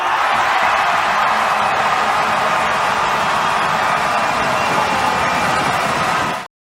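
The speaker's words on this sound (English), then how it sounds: "you hear the crowd just going nuts there" A hockey crowd at the Memorial Cup roars continuously for the tournament MVP announcement, a dense, steady wall of cheering and noise that holds loud throughout before cutting off abruptly.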